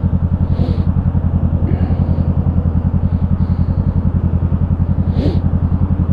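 A 2017 Honda CB500F engine with its muffler removed idles loud and close, a fast, even throbbing pulse running throughout with no talking.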